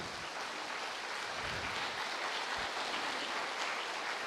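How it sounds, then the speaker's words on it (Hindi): An audience claps steadily throughout a spiritual talk, a dense, even wash of applause at moderate level with no voices over it. "जोरदार तालियां बजाइए श्रेया बहन के लिए"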